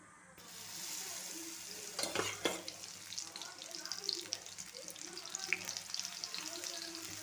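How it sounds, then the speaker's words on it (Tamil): Masala-coated soya chunks dropped into hot oil for deep frying, a soft steady sizzle rising after the first second with a few sharper pops and crackles along the way. "இப்போ மசாலா போட்டு பரட்டி வச்ச சோயா சங்க்ஸை இப்போ எண்ணெயில் எடுத்து போட்டுக்கிடுவோம்."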